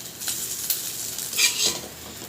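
Green chillies sizzle in hot oil in a pan while being stirred, a soft continuous frying hiss broken by light scraping and clinks of the utensil.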